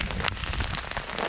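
Hail falling in Uinta National Forest, a dense steady patter of many small impacts pelting the ground and gear close by, with a couple of sharper hits standing out over the constant hiss.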